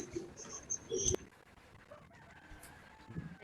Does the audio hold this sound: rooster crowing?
yes